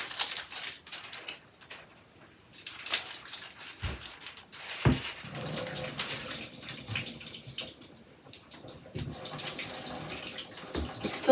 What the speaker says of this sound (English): So I'm going to try to just pour the water out of this corner.